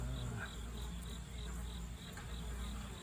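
Honeybees buzz steadily around the entrance of a hive on a September day as foragers return carrying pollen loads, a constant close insect hum with a faint high tone running underneath.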